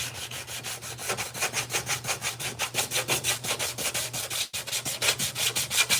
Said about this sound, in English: I'm sanding this hood.